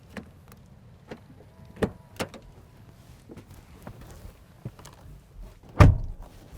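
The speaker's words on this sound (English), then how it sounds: "So the door closes with a reassuring thud." A BYD Atto 3 car door shuts with a solid, heavy thud near the end, after scattered lighter clicks and handling noises from the car in a fairly quiet setting.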